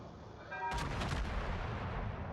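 A warship's main guns fire a broadside in a naval battle game, a single heavy booming blast that rolls out and rumbles on with a long echoing tail.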